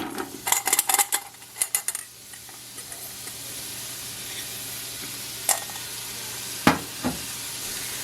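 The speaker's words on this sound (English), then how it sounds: "Now these are going to saute for a few minutes until they become translucent." Chopped onions hit hot oil in a pot while making sweet potato and black bean chili, giving a steady close sizzle after a burst of clattering utensil and pan knocks, with a few later sharp scrapes and taps.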